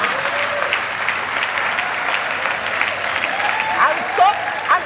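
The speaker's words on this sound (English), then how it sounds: "Me, I'm clapping for myself." Steady applause and clapping at a women-in-business talk, dense and even for several seconds, with a voice rising over it toward the end.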